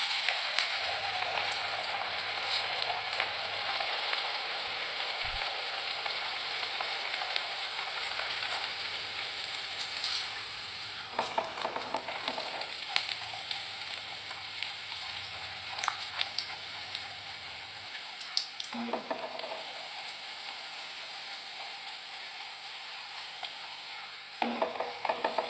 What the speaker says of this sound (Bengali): এখন তেলে ভাজবো। তেল গরম হয়ে গিয়েছে